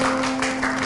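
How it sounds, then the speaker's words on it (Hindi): Brief burst of applause from a gathered group celebrating the official opening of a family escape room, a dense even wash of clapping over a steady faint tone, with no talking. "तालियां"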